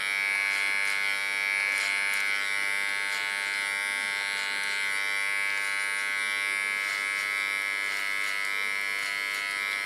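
Electric hair clipper buzzing steadily close up while shaving the nape for an ultra short platinum blonde pixie cut, a continuous bright whine with slight wavers as it moves through the hair, no talking.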